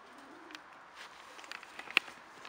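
Racing pigeons in a loft coo softly and low, a faint murmur with a brief sharper call near the end.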